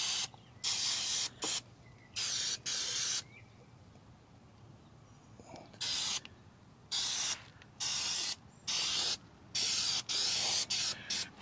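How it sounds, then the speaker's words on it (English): Short bursts of aerosol spray from a Miracle SPM spray can, applied around the underside of an RV camper's damaged underbelly liner; about eight close, loud hissing blasts in an irregular rhythm with quiet pauses between them. "take our Miracle SPM spray. I'm going to spray all around up in here."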